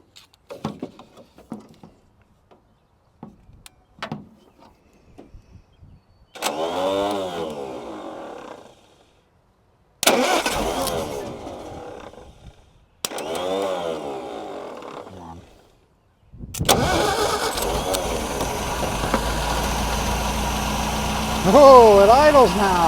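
A 1952 Riley RMB car engine cranking in several short bursts with pauses, then catching and settling into a steady close idle, with someone speaking briefly near the end.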